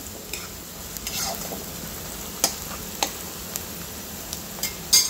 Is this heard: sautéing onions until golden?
yes